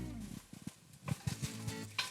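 Bell peppers sizzling and frying in a pan, with soft scraping and stirring taps against the pan; no one speaks.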